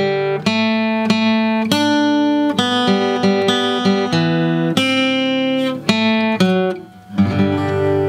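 Guitar picking the intro lick, clear, bright single-note phrases with a steady rhythm that land on a ringing chord, loud and close with no talk.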